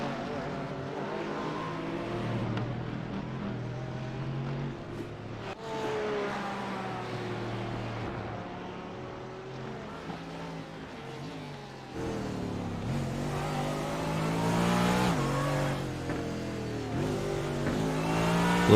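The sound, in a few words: GT3 race car losing the rear in a racing video game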